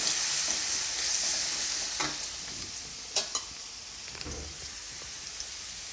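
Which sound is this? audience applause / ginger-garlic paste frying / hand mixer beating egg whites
ginger-garlic paste frying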